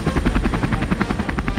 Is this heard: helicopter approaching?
yes